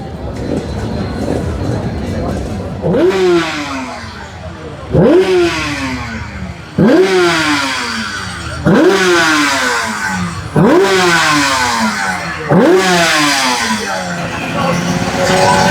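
A scrambler motorcycle with a small exhaust revs on a warm-up lap at a circuit, loud and close. Several sharp rising-and-falling engine sweeps repeat every couple of seconds, with people talking in the background.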